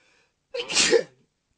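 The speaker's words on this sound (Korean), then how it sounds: "재채기가." One loud, close sneeze bursts out from a person giving a pencil lip-drawing lesson, lasting about half a second, with silence before and after.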